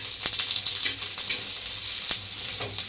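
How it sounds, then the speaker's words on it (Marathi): Lengthwise-sliced onion fries in a little oil over medium heat, a steady close crackling sizzle punctuated by a few sharp taps of a utensil against the pan. "आता मी कांदा उभा चिरून घेतलाय, तो भाजून घेते तेलामध्ये।"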